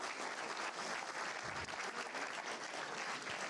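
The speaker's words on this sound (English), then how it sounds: "So a nice round of applause for our coaches." Audience applause for coaches at a town board meeting, a dense, steady wash of clapping from a room full of people that carries on for several seconds with no talking over it.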